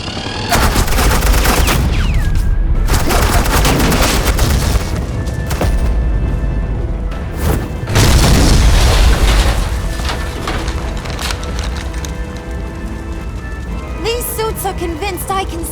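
Sustained gunfire and booming blasts from a Batman: The Enemy Within video game battle, loud and dense with rapid bursts running throughout, voices talking over parts of it.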